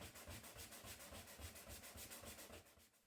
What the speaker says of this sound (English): I decided to switch over to hand sanding the faces even.